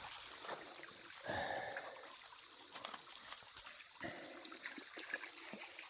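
Water of a creek trickling and babbling over rocks where two creeks join, a faint steady burble outdoors with a few soft splashes and knocks, no talking.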